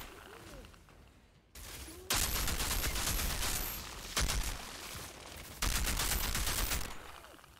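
Sustained bursts of automatic gunfire from the shooter game Outriders come loud and close, rattling continuously with short breaks between volleys.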